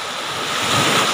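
Waves wash steadily against the shore in a broad, rushing surf, with a rising swell and a touch of wind noise, close and fairly loud, and no voices.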